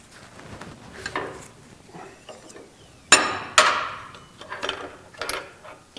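A hammer strikes a driver to countersink a bushing in a 350 transmission, with two sharp metallic blows standing out among lighter taps and handling noise.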